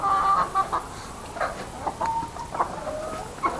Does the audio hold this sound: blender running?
no